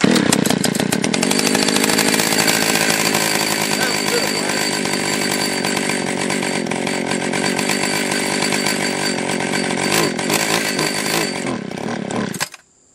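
A Stihl 020 two-stroke chainsaw engine runs loud and close at a steady high rev for several seconds, then cuts off abruptly at the end.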